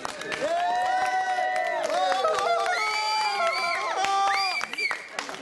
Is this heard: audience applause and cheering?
yes